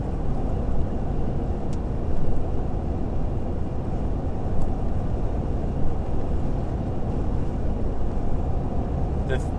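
A Ford Ranger pickup with a throttle controller driving at speed, giving a steady, loud broadband road and engine roar that holds level throughout without clear gear changes.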